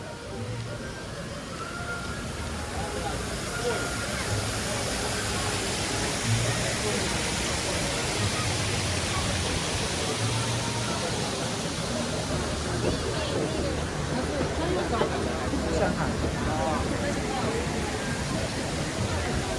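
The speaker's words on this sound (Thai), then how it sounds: "มีเสียงน้ำตกด้วยนะครับ" Constant, dense rush of falling water, loud and unbroken throughout, with a faint low tone humming underneath.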